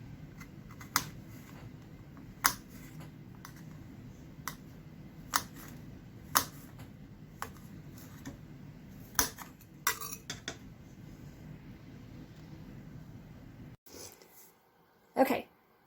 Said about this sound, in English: I just keep chopping until it's very tiny.